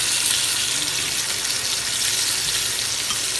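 Pot roast searing in hot olive oil in a pan on the stovetop gives a loud, steady, close sizzle that hisses continuously without a break.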